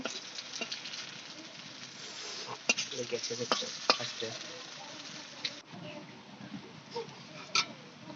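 Papaya and potato chops frying in hot oil, a steady close sizzle broken by occasional sharper crackles and stirring or turning clicks, with no talking.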